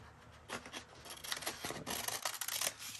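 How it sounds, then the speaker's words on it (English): Scissors or a blade trimming around a paper tag made from old book pages, giving close, irregular rasping cuts and rustles that come in short bursts throughout. "So I am just trimming around, or attempting to trim around that tag."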